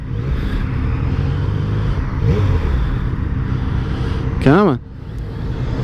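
A used Yamaha MT-09 motorcycle with about 1,500 miles revs steadily under a continuous engine drone, with a sharp rising-and-falling rev swell near the end; someone speaks briefly over it.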